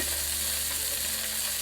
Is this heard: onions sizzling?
yes